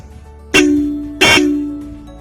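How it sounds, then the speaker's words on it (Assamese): A powerful aftermarket horn fitted to a Royal Enfield Classic 350 motorcycle sounds twice in short, loud, close blasts, each a bright burst that leaves a fading tonal ring. "লগতে মই এটা হৰ্ণ লগাইছিলোঁ, আপোনালোকক বজাই মই শুনাই দিম।"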